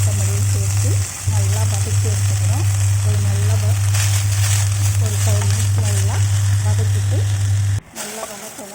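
Mint leaves sauté in a hot pan for chutney, a steady close sizzle and crackle throughout, with a strong low hum underneath and a voice speaking over the frying.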